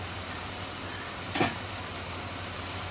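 Tengra fish drop into a hot pan, bringing a sudden short burst of sizzling that quickly settles back into a faint, steady frying hiss.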